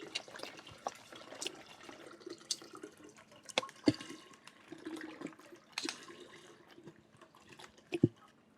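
C2O coconut water pours into a container, a faint irregular trickle with soft drips and splashes close by, quiet and steady with a few sharper drops, no talk.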